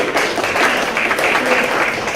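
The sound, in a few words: warm applause for the staff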